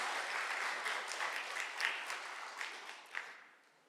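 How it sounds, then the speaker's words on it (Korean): A church congregation at an Easter Sunday service in Gwangju, South Korea, applauds with sustained, even clapping that fades out toward the end, heard from some distance in a reverberant hall. "박수로 크게 하나님께 영광 돌려주시기 바랍니다"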